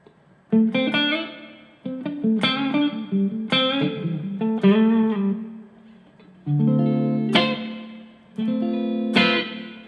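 An electric guitar runs through the Crypt reverb in Helix Native, set low at a small amount. It plays a series of loud, bright chords and picked notes, each one ringing out into a lingering ambient tail between attacks.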